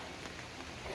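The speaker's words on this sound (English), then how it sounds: "Well, it's decided to rain." Steady rain falls on the Stanage Edge circular hiking trail, a constant fine hiss of drops spread evenly across the whole moment, fairly quiet and close with no voices.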